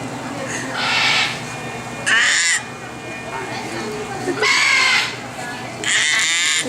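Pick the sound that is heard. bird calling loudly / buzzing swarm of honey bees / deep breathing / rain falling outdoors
bird calling loudly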